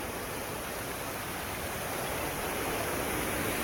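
Stream water rushing past a mud house in Marayoor, a steady, soft rushing hiss that holds an even level from start to finish with no talking.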